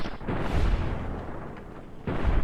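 Heavy gunfire from a weapon in Fallout: New Vegas, two booming bursts with rumbling tails filling the short stretch, loud and close, with no talk over them.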